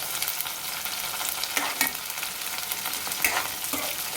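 Bottle gourd curry fries on medium flame in a pan, giving a steady close sizzle broken by scraping stirs from a spoon, with no voices.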